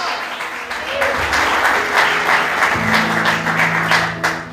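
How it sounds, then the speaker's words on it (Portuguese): A church congregation claps steadily and loudly at a sermon, and the dense applause keeps going under a sustained tone and some voices. "Quantos podem aplaudir, exaltando o nome dEle por isso?"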